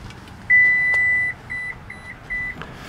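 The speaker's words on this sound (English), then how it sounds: "I kicked it and then it beeped, and then it beeped three times." A 2021 Toyota Sienna minivan's power liftgate, opened with a kick, beeps for nearly a second, then a quick string of short beeps follows, clear and close against a quiet background.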